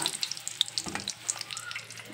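Eggs fry in oil in a pan, giving a soft, steady sizzle with small crackles and pops scattered throughout. Close but quiet, with no talking.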